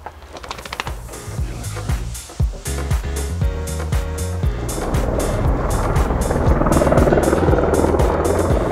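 Farm tractor engine running loud and close on a homestead, a steady mechanical drone with rhythmic knocking pulses that builds into a denser, louder roar over several seconds, no talking.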